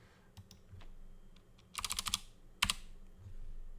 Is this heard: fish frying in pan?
no